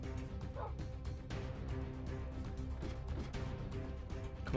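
Dogs barking in the Minecraft Bedwars video game, a dense run of quick yips and barks over a busy, continuous game-sound bed, fairly faint overall.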